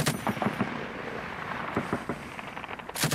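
Mortar rounds fired at Taliban positions from the base at Kajaki in Afghanistan: several heavy booming blasts at irregular intervals, rumbling and distant, with a louder thud at the end and no talking.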